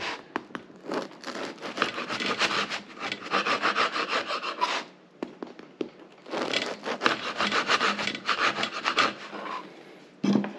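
A knife saws through a crusty baguette at an angle, making repeated close rasping, crackly strokes in two long bursts with a brief pause between, ending with a short clunk.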